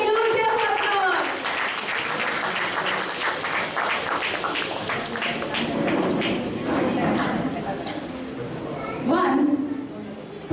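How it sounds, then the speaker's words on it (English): An audience claps steadily for a children's performance at a school event, a dense, sustained burst of applause lasting several seconds with children's voices and chatter mixed in, swelling again briefly near the end. "Give them a huge applause."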